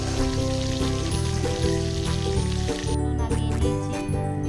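Prawns for a coconut prawn dish fry in a pan with a steady, dense sizzle that stays loud and even throughout, with no talk.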